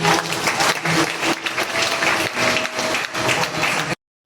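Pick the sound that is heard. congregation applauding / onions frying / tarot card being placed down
congregation applauding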